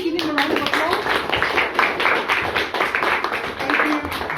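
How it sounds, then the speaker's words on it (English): An audience at a Toastmasters speaking workshop in Copenhagen claps for a speaker who has just received a certificate, a steady patter of hands from a modest crowd over room noise. "Please give him a round of applause."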